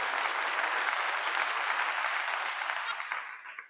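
Dense applause from a crowd rolls on steadily, then thins and fades away near the end.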